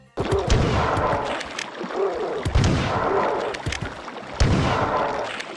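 Shotgun blasts in the video game Marathon, each followed by a flip reload: three loud, sharp booms spaced about two seconds apart, trailed by mechanical clatter.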